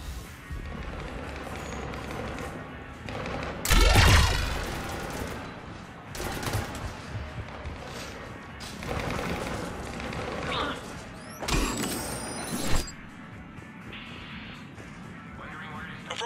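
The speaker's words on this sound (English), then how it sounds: "Just following the gunfire." Bursts of gunfire and heavy impacts break out in the Mass Effect 3 Citadel DLC, with loud blasts around the four- and twelve-second marks, while character dialogue plays between and over the shots.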